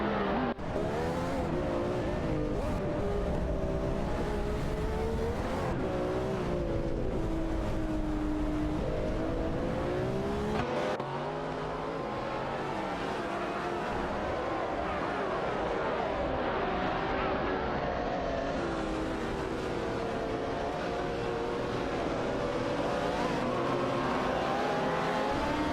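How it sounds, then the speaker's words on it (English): Race cars, including a Maserati MK12 and an Audi R8, roar continuously in a racing video game, with engines revving and shifting up close while a commentator talks over them. "In another close battle, Joey 121 in the Maserati Mk12 is vying with Bjorkenshaw in the Audi Rate 12"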